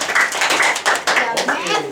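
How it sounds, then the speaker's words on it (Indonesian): Classroom applause, a short burst of hand claps with a loosely pulsing rhythm, fairly close, mixed with children's voices chattering. "Tepuk tangan."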